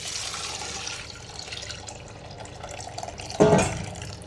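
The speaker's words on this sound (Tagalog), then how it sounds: "ilalagay na natin yung ating ulo ng hipon na nilagyan natin ng konting tubig. Isasala na natin." Shrimp-head broth pours and splashes through a strainer, with a steady wet trickle and a louder burst of splashing near the end.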